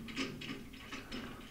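A bandsaw table being tilted and its knobs tightened, heard as a brief run of quiet ratcheting mechanical clicks and grinds, close and alone.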